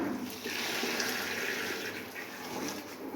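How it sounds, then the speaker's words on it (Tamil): Steady rushing pour of boiled water into a pot of rice, a continuous close gush lasting throughout without pauses. "இப்போ நம்ம கொதிக்க வச்ச தண்ணி எடுத்து அதில் நம்ம ஊற்ற போகிறோம்"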